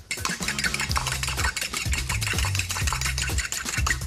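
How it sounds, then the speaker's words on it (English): Whisking an egg into ricotta and sieved flour in a bowl: quick, steady scraping whisk strokes repeat at close range, with background music underneath. "Give that a little whisk."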